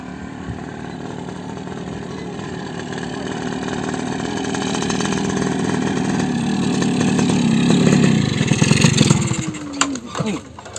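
A motorcycle engine idles steadily for about ten seconds with a low, even hum, then revs briefly and cuts out near the end, in a village comedy setting with people talking over it.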